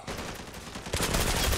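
Gunfire in the shooter game Zula, bursts of rapid shots that grow louder and denser about halfway through, loud and close with no talk.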